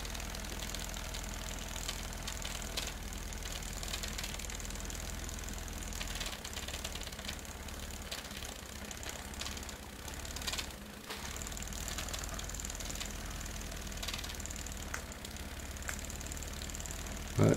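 A finely made model steam engine runs with a soft, steady purr, a continuous close mechanical hum with light regular ticking and no talk.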